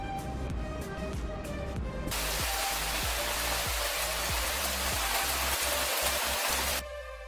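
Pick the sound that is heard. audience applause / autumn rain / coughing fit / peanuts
autumn rain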